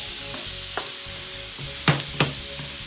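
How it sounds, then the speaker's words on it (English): Shrimp sizzle steadily in a hot pan with salt, pepper and seasoning, a constant frying hiss under a few scraping stirs and two sharp utensil clinks, close and alone without talk. "And then we're going to add our shrimp back into it."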